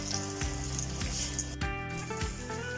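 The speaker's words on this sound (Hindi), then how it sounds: "तो बस इनको भी फ्राई करते हैं" Potato kebabs sizzling steadily in hot frying oil, a continuous close crackle and hiss with occasional soft bubbling bursts and no talking.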